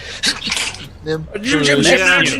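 A single sharp, wet sneeze bursts out up close, followed by a voice talking.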